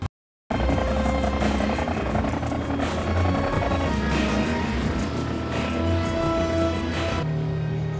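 Police helicopter from the film The Fast and the Furious, a steady loud rotor thrum and whine running continuously after a brief silent start, with dense film soundtrack layered underneath and no speech.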